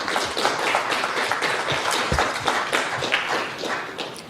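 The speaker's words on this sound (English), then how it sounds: "I'd like to extend a round of applause to ourselves." Dense, sustained applause from a conference audience on maritime finance, many hands clapping together continuously without pause, close and loud, with no talking over it.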